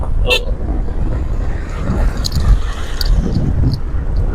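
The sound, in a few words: car passing on the road, honking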